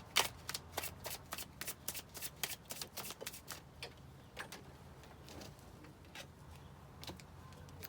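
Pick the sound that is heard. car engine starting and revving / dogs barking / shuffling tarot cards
shuffling tarot cards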